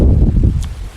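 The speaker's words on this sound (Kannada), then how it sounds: "ಗಾಳಿ ಅಂತೂ ತುಂಬ ಜೋರಾಗೇ ಬರ್ತಿದೆ" Strong wind blowing across a farm, a loud continuous low rumble buffeting the microphone for the full second, with a faint brief rustle near the end.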